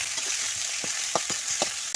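Young jackfruit pieces sizzle steadily in hot oil in a pan, with a few soft scrapes and taps of a spatula stirring them, close and alone.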